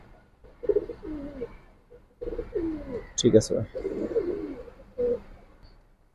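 Pigeons coo in short, rolling phrases inside a loft in Islambagh, Old Dhaka, heard close with someone speaking briefly between the calls.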